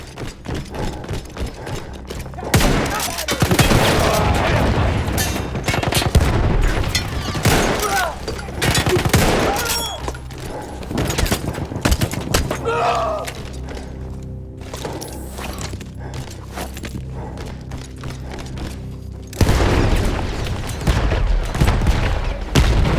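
Loud explosions and bursts of rapid gunfire in the video game Battlefield 1 crackle and boom throughout, with a brief quieter lull before heavy firing erupts again near the end.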